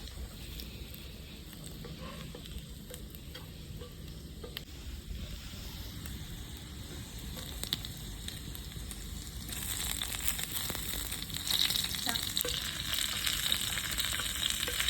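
Garlic sizzles steadily in a pan as it fries to a golden colour for Punjabi kadhi pakora, a continuous close hiss with occasional crackles and stirring scrapes that grows brighter and louder toward the end.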